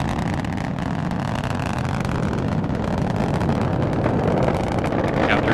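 The engines of a Delta IV Heavy rocket roar at full thrust during launch, heard as a loud, continuous broadband rumble with a gusty, wind-buffeted texture and no voices.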